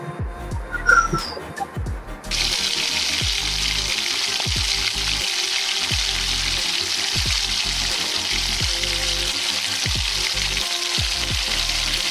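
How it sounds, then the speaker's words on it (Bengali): Vegetable dhoka fritters fry in hot oil in a kadai, with a steady, loud sizzle that starts abruptly and holds for about ten seconds, while soft intermittent clicks and knocks sound underneath. "এবার কড়ার মধ্যে তেল দিয়ে এই বড়াগুলোকে ভেজে নেব।"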